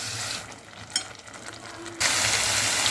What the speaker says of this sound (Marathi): आणि तेल सुटेपर्यंत आपण वाटण परतायचं आहे